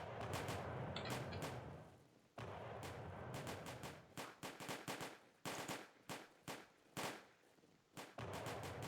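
Repeated cannon volleys boom from a Napoleonic Wars battle game set at Lappo in 1808, a heavy sustained salvo giving way to a ragged sequence of separate loud blasts, with no talk.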